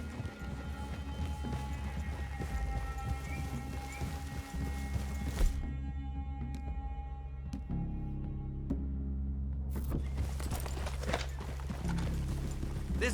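Horses walk with a steady clip-clop of hooves in Red Dead Redemption 2, close and continuous, layered over constant low ambient game sound with a few sharp knocks partway through.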